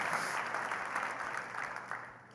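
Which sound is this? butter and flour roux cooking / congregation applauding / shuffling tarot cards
congregation applauding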